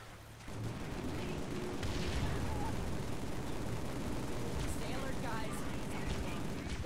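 Sustained assault rifle fire in Halo 3 rattles continuously and loudly for several seconds amid dense game combat noise, with a brief quieter moment at the start.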